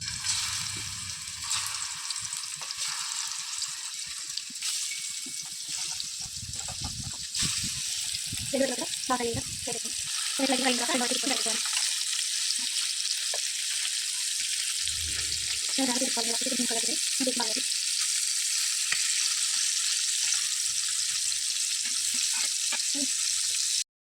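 Fish pieces shallow-fry in lightly heated oil, a bright continuous sizzle that swells as pieces go in, with bursts of crackling spatter and a voice talking intermittently underneath.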